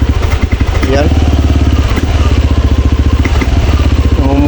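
A Yamaha Aerox 155 scooter engine runs close by, loud, with a fast rough pulsing idle and occasional throttle blips; the bike has a fault of misfiring and sudden stalling. A voice talks over it.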